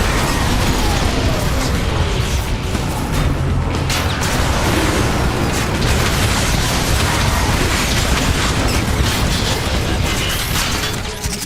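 Rocket and missile explosions from the game War for Cybertron boom in a loud, continuous barrage, with rumbling blasts and crashes overlapping throughout and no clear gaps.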